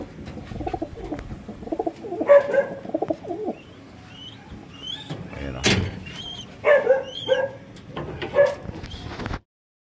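Racing pigeons coo and flutter around a coop as a bird is placed inside before a race, with someone talking nearby, a dog barking faintly and a loud rustle midway.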